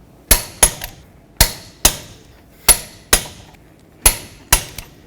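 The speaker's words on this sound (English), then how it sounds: "let's torque these to 140 foot-pounds." Lug nuts on a 2007-14 Chevy Silverado front wheel being torqued, heard as sharp metallic clicks in quick pairs, eight distinct snaps spaced across the span, close and loud with no talk.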